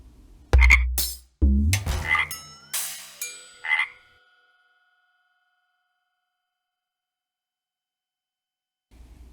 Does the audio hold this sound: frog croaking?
yes